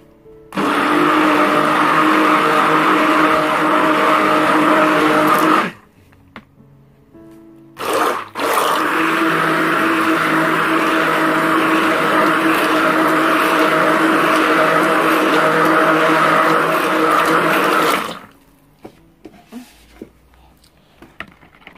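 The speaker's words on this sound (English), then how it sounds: "you use a stick blender" A stick blender mixing carrot and turmeric bar soap whirs loudly in a long steady burst, stops, gives a short pulse, then runs again for about ten seconds before switching off.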